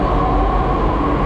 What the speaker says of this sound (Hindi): और मेट्रो आ चुका है